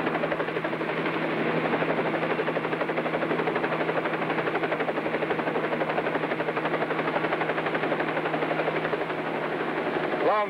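A helicopter's rotor beats steadily and loudly overhead, a continuous close thudding drone that holds for the whole stretch with no voices over it.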